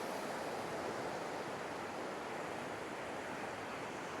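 Ocean surf breaks on Gwithian Beach in St Ives Bay, Cornwall, in light wind, a continuous broad wash of waves that stays steady and fairly close with no voices.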